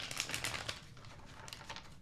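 Tarot cards riffled and shuffled by hand, a run of soft papery flutters and crisp snaps close by, fairly quiet and steady, with no talking.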